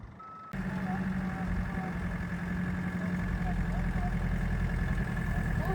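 A manual-transmission vehicle at a paving work site rumbles at idle and pulls along, its low engine drone steady under a thin, repeating high reversing beep that runs throughout after a brief quieter start.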